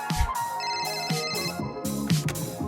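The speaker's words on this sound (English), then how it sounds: "Wait, phone ring now." A phone in a cartoon rings with a repeating electronic ringtone, a bright melodic pattern pulsing steadily over background music, moderately loud and with no talking.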